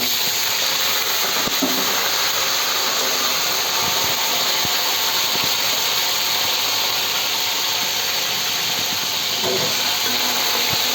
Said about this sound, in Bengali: কাঁকড়াটা হালকা করে ভেজে নিই।